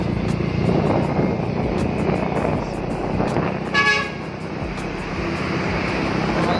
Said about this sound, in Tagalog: Laki ng mga truck guys, oh.